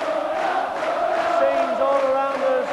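Football crowd at Wembley roaring and cheering Tranmere Rovers after their play-off match against Bury in 1990, a dense, sustained wall of massed voices and chanting that fills the space without a break.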